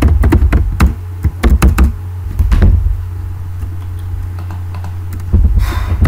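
Java code being typed on a computer keyboard: loud, close, irregular bursts of key clicks and taps, with pauses between runs of keystrokes, over a low steady hum.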